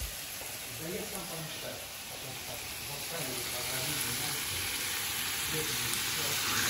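Uzbek plov with meat sizzles steadily in a pot while it is stirred, a continuous loud frying hiss with occasional scrapes, and voices come and go over it.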